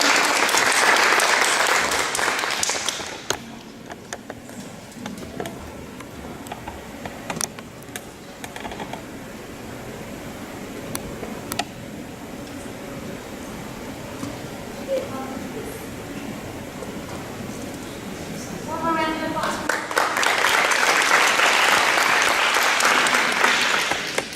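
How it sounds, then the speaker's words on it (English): At a school board meeting, an audience applauds a student being recognized: a loud burst of clapping opens, then fades to quieter room noise with scattered knocks, before a second strong round of clapping closes. "if y'all could give Malachi a round of applause"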